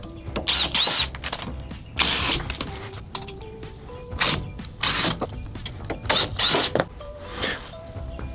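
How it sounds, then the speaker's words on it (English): A power drill runs in repeated short bursts, loud and close, as it backs out four Allen screws from the corners of a Broaddict Traildeck during installation. "So you got 4 Allen screws that are on each corner here. Those have to be removed"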